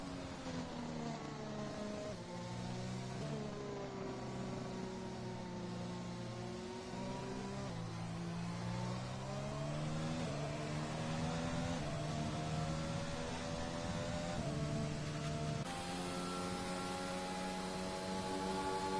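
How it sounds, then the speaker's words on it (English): A McLaren race car lapping Silverstone slowly in a racing game, its engine note a steady buzzing whine that rises and falls through the gears over about nineteen seconds, heard alone and fairly quiet. "That's Deutsch in the McLaren, taking it nice and slowly round the circuit."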